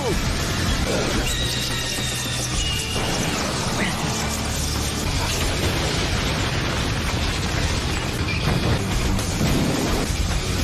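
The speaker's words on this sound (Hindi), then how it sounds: "Fire style, fireball jutsu." A blazing fire blast from a fireball jutsu in the Naruto Shippuden anime fight between Sasuke and Itachi, a loud, sustained roaring rush of flame and crackling energy filling the whole clip with steady dense noise.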